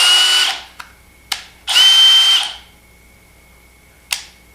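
A Porter Cable PCC607 half-inch brushless cordless drill driver whirs in two short bursts, with clicks and taps in between, close by and fairly loud.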